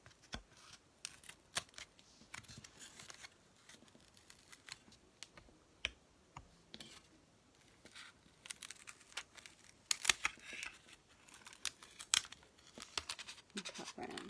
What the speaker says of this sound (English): And now just take a pair of scissors